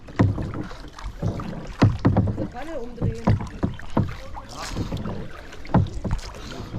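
Paddles dip and splash repeatedly as a kayak moves along a Spreewald river in Germany, steady close strokes with faint voices talking now and then.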